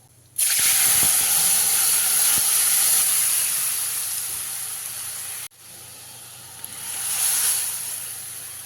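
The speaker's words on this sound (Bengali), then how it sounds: "এর মধ্যে ডালটা দিয়ে দিতে হবে" Masoor lentils tipped into hot spiced oil burst into a loud, hissing sizzle that slowly settles, cuts out briefly and then swells again.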